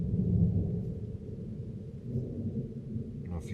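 Thunder rolling from a storm with lightning all around, a low continuous rumble that swells and fades, fairly distant, with no voices.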